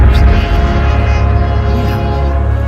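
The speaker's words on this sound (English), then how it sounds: "The train's getting a lot closer. It's getting in. Wait. There it is. It's coming in." A train approaches on its tracks at night, a loud, steady low rumble and hum filling the space with a faint horn-like tone, drawing nearer with no talk over it.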